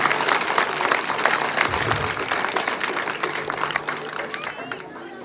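A crowd at a village tree-planting event in Dhingsari applauds vigorously, the dense clapping heard from nearby and mixed with murmuring voices, easing slightly toward the end.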